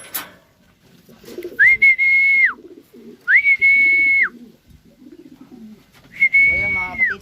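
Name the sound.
pigeons cooing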